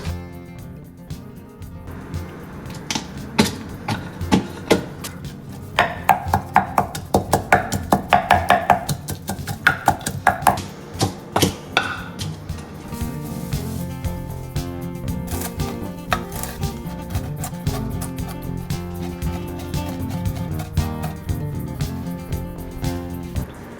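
A knife chops fresh parsley on a board in quick rhythmic taps, building to a dense burst of sharp close strikes before settling into softer continuous rustling and kitchen noise, with no talking.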